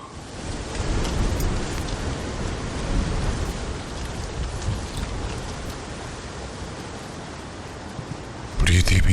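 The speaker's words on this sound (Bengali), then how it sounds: "শুনছেন না, ঝড়ের সঙ্গে আবার বৃষ্টি নামলো।" Heavy rain pours down during a storm as a dense, loud, steady hiss throughout, with a sudden sharper burst right at the end.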